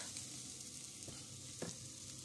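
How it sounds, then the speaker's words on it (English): Onion and garlic cooking in butter, a quiet, even sizzle with soft crackles and a couple of light utensil taps, faint and close with no talking. "I slice onion and garlic, and then I cook them with the butter"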